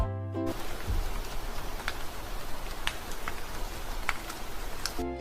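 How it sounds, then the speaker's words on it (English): Rain patters steadily on a roof, a continuous hiss of falling drops with scattered sharper taps standing out. "Music can sound like raindrops falling on a roof"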